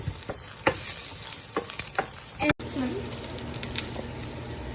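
Garlic frying in oil in a pan gives a continuous close sizzle with stirring scrapes and a brief dropout midway.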